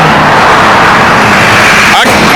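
Loud, constant road traffic roars beside a person standing outdoors in the cold, with one vehicle sweeping past close by near the end.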